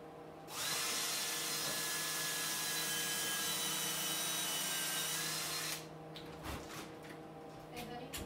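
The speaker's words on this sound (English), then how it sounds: "all I want to do is just try to get a screw in there" A power drill drives a 3/4 inch screw into wood during boat building, a loud steady whine for about five seconds that then stops, leaving softer handling noises and faint voices.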